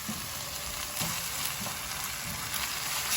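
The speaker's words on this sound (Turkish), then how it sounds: "Kıymaya şöyle kaşığı kadar su ilave ediyorum." Minced meat sizzles and crackles steadily in a hot frying pan after a spoonful of water is added, a loud, close, continuous hiss with faint stirring scrapes.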